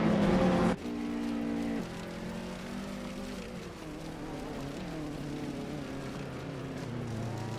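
Race cars launching off the line in a racing game, including a vintage 1985 Lancia Delta, with engines revving through shifting whining pitches, loud and continuous, no voices.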